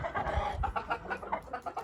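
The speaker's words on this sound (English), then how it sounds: "And all the chickens came to help." Chickens cluck softly nearby in short, scattered bursts, a few overlapping calls with faint rustling beneath, at a building site.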